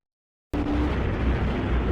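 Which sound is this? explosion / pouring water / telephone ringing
explosion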